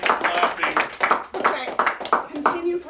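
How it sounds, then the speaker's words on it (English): An audience at a book reading claps in a brisk, steady burst of hand claps, fairly close, with a voice talking over it. "Keep clapping. That's right. Continue clapping."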